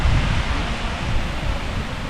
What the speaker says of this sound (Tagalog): Sa lakas ng alon, no?